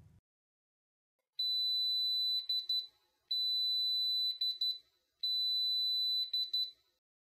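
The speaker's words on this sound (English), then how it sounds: "When the timer beeps, the instrument will read the sample and the result will be displayed." A Taylor TTi colorimeter timer emits three separate bursts of high, electronic beeping, each lasting about a second and a half with a quick stuttering end, separated by silence.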